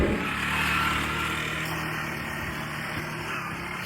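A motorcycle engine runs steadily at close range, a continuous low mechanical drone with a slight swell near the start and no voices over it.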